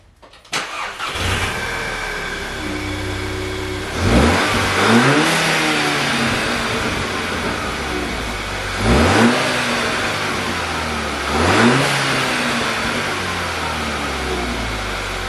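VW GTI 2.0T engine after a broken valve spring repair: it cranks and starts, settles to idle, then revs sharply three times, each rise and fall sweeping up and back down, close and loud.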